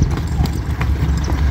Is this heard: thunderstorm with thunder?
no